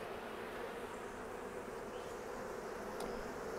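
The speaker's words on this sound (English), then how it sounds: "there's a lot of bees right here on this outside wall" Honeybees buzz steadily in a dense, continuous drone on an outside wall of a hive, fairly close and even in level, with no talking.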